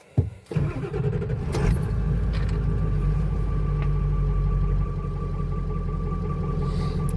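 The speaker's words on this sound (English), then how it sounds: "Got my good trusty old Ford diesel." A Ford diesel pickup truck with 237,000 miles starts with a short crank, then settles into a steady, close idle with a low diesel rumble and faint clatter throughout, and no talking.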